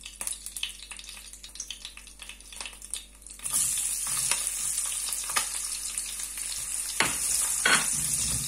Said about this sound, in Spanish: Dejamos que se nos fría un poquito.